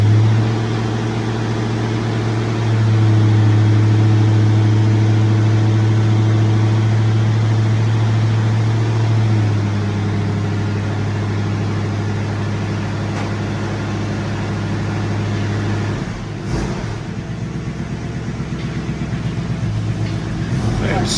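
Several Shelby Cobra car engines run at idle, giving a steady, loud low rumble that holds throughout with slight shifts in tone.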